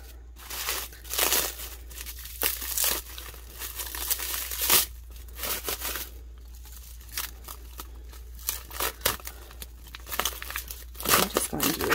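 Plastic wrap is peeled and pulled off a painted epoxy tumbler, close crinkling and tearing in irregular bursts over a low background hum.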